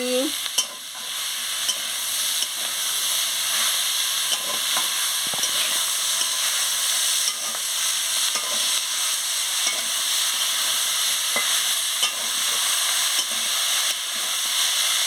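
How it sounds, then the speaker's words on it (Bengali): Pumpkin flowers and chopped vegetables frying in a pan as they are stirred, a continuous bright sizzle with scattered scraping and clinks of the spatula, steady and close throughout. "আমি কুমড়োর ফুলটা দিয়ে দিচ্ছি দিয়ে ভালো করে নাড়িয়ে নিচ্ছি"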